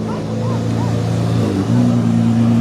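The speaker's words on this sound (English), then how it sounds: "Very, very loud car." A loud Bugatti Chiron Super Sport engine drones and revs, its pitch dipping then rising again in a deep, powerful exhaust roar.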